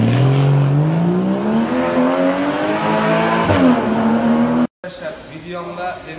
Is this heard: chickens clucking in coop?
no